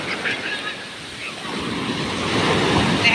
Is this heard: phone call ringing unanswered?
no